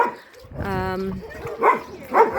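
Rescued shelter dogs at an animal shelter in Iran bark and yip, a drawn-out whining howl followed by a couple of sharp barks, fairly close, with other sounds in the background.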